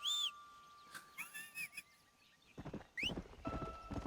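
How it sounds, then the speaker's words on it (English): A rider's whistle calls a horse in the Western video game Red Dead Redemption: a few sharp, rising whistle notes, followed by game sounds of hoofbeats and thuds. "Whistle again."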